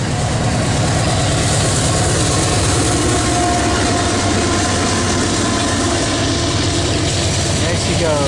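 An AC4400CW freight locomotive train with a DPU rolls past close and loud, a continuous heavy rumble and rhythmic clatter of wagons that fills the whole stretch, with faint speech underneath.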